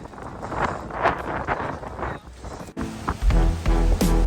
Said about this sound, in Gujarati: બધું હલાવી નાખે એવો પવન છે